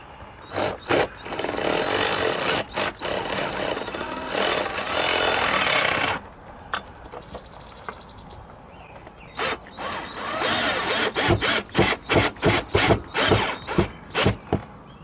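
A power drill whines and ratchets in long bursts as a screw drives into wood without a pre-drilled hole, pausing briefly, then finishing with short, rapid pulses of the driver.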